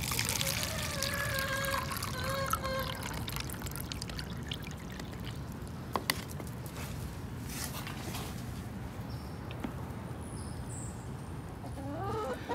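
Water pours through gravel in a flood bowl during a grade-school earth science demonstration, a steady trickling pour lasting several seconds, close by and without speech.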